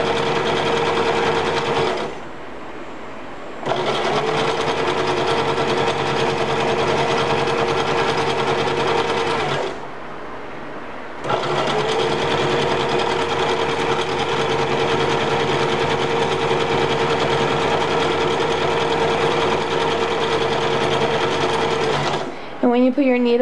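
A sewing machine stitching fabric for a dress-up apron runs in long steady loud bursts with a constant whirring hum, pausing twice briefly, and no talk is heard.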